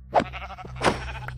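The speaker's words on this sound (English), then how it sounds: "Oh, hi, sheep." A sheep in a video game bleats twice in quick succession, two short, close wavering calls separated by a brief pause, clear and alone.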